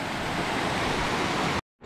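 Steady loud broadband rush of a waterfall close by on a footpath crossing at Oeschinensee near Kandersteg, Switzerland, continuous roar that cuts off abruptly near the end.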